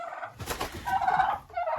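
Turkeys gobble inside a warm greenhouse, loud and close, with overlapping rapid warbling calls filling the space.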